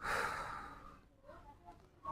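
A person lets out one long, audible breath near the microphone during a stretching exercise for nerve and muscle pain, then breathes more quietly before drawing the next breath.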